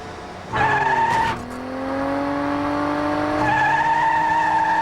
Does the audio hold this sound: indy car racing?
yes